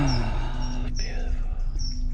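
Birds sing in the morning at a rural field camp, several short high chirps and whistled phrases repeating over a low background rumble, with a little talk at the start.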